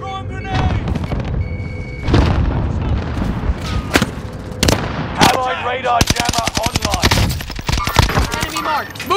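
Call of Duty: Modern Warfare combat, a grenade blast and bursts of automatic gunfire with rapid rattling shots growing denser toward the end, loud and close, with game voices and player chatter throughout.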